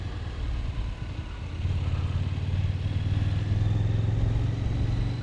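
A KTM 990 Duke R motorcycle rides along with a steady engine drone that dips briefly, then rises again after a shift from first to second gear, staying loud and continuous throughout.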